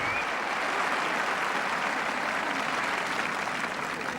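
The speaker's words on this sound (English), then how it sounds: "a tremendous cheer for his opponent" A Wimbledon tennis crowd, 1977 semifinal between Borg and Gerulaitis, cheering and applauding in a dense, sustained roar of clapping that fills the whole stretch without letting up.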